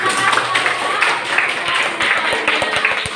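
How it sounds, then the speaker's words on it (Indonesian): Pupils in a primary school classroom break into clapping, loose rapid claps that grow clearer and more rhythmic toward the end, heard over a murmur of children's voices and room noise. "Baik, tepuk tangan."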